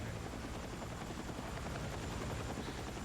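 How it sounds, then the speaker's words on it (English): A helicopter flies in Battlefield 6 with a steady, dense rotor drone that holds at a constant level throughout, alone without talk. "let's just take this helicopter and just fly out"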